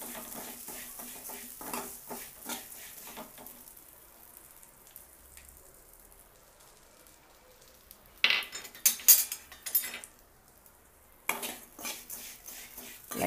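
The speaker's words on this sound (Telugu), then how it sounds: "దీనిలోనే మనం ముందుగా తీసుకున్న సేమియాను కూడా వేసి ఈ నెయ్యిలోనే వేయించుకోవాలి." Vermicelli frying in ghee in a pan: faint crackling and light scraping stirs, then bursts of louder clattering utensil strokes against the pan near the end, close and with no speech.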